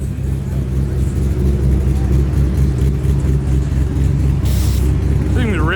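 A Chevrolet Corvette C5 Z06 engine runs with a steady, deep rumble close by at a busy car meet, holding a fairly even note throughout while voices murmur in the background.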